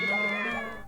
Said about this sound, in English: Na makes cat sounds because nya.